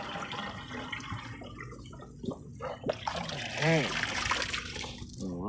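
Water from an old pond splashes and trickles into an old watering can with a broken head, a gurgling fill that grows fuller toward the end, with someone speaking briefly at the start.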